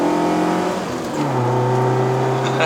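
A 2005 Proton Wira 1.5 SE with a five-speed manual gearbox holds a loud, steady engine drone with a buzzy exhaust note that drops in pitch partway through.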